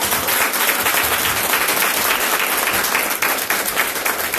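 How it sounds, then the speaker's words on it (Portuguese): A church congregation at a Pentecostal service claps in sustained, dense applause, loud and steady from start to finish with no break. "Aplauda Jesus, igreja."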